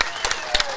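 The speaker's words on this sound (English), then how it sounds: "let's give him a big round of applause" A live audience applauds at a sports talk show in Bobcaygeon. The clapping is a brief, dense wash of steady noise.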